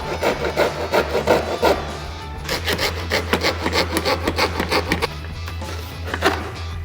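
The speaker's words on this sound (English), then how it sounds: "Basically gonna cut right along this line right here." A fine-toothed coping saw cuts along a marked line in a Jeep Wrangler JK dashboard, giving rhythmic rasping back-and-forth strokes, slower at first and then quicker, close and without speech.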